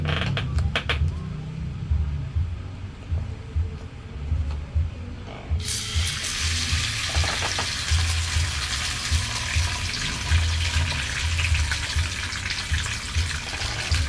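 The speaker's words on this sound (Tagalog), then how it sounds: "Nagpiprito lang ako." Food frying in a home kitchen: a steady crackling sizzle starts abruptly partway through, after a quieter stretch with a low hum, and continues evenly to the end.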